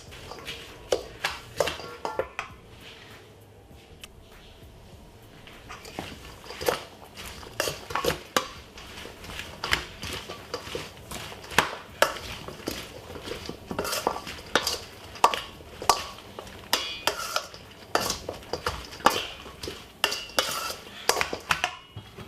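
Green salad being tossed with pepper in a bowl, giving repeated clattering, scraping knocks of utensils against the bowl in an irregular rhythm, close and fairly loud, with a quieter pause early on.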